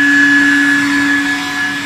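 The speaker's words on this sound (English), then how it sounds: "Now I will use a vacuum cleaner. I will be using a home vacuum cleaner" A home vacuum cleaner runs steadily while cleaning a car's carpet, its close, continuous motor whine holding a constant pitch for the whole stretch with no pauses.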